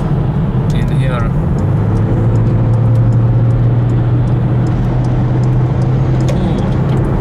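A car engine drones steadily from inside the cabin as the car accelerates, its low hum lifting slightly in pitch over several seconds beneath a constant road rumble, with a voice speaking over it.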